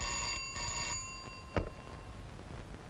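A telephone rings in an office scene from a Telugu comedy film, a faint, steady bell tone that holds for a few seconds with a small knock partway through.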